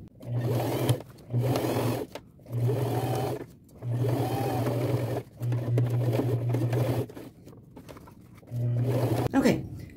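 Bursts of rapid stitching from a sewing machine join pieces of denim for a bag made from old jeans, the motor starting and stopping in short runs, with someone speaking over the mechanical hum.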